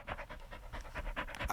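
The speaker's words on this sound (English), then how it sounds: "It's the Yorkie licking my face." A Yorkie pants rapidly and close, with quick rhythmic breaths and wet licking sounds, setting the scene in a radio drama with no speech.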